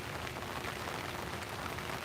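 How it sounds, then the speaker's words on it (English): Steady rain pours down, a dense even hiss of drops hitting surfaces, constant and fairly close with no voices. "But the rain is letting up,"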